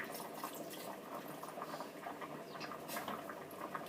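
Water is poured into a budgie's water container, a steady close trickle and splash of liquid with bubbling and small drips, continuous for the whole stretch with no talk.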